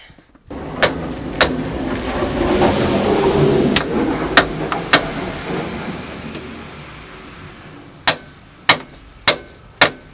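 Loud hammer blows ring on a steel pin of a truck's rear suspension torque arm, a few scattered strikes then a steady run of four, over a low engine rumble.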